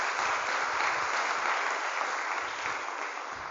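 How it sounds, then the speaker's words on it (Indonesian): An audience applauds the graduating final-year students at a motivational seminar at Daar El Qolam school in Gintung, Tangerang, with a fairly quiet, steady patter of clapping that fades slightly toward the end. "Tepuk tangan untuk calon alumni hari ini."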